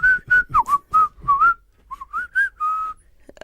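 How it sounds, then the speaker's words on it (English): A person whistles a bright, wavering tune in short separate notes, about a dozen phrases in steady rhythm, close and clear with no talking. "I can only whistle in. I can't whistle out."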